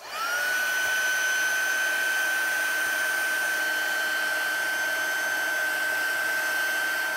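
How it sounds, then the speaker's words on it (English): Heat gun running continuously at close range while drying ink on a stamped card, a steady high whine with an even airy blowing hiss throughout. "Let's heat this with the heat gun."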